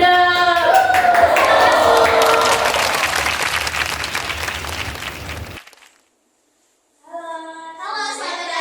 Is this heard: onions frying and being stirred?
no